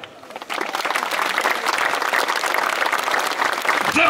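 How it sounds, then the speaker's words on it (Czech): An audience breaks into sustained applause, many hands clapping steadily and loudly after a quiet moment. "Zatleskejte jim!"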